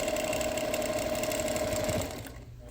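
Sewing machine stitching freehand in free-motion quilting without a ruler, a fast, even mechanical whir that runs steadily, then slows and winds down near the end; no voices.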